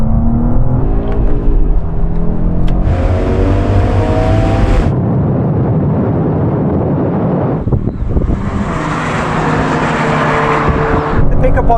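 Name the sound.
BMW M2, Audi RS3, AMG A45 S, Porsche Boxster GTS drag racing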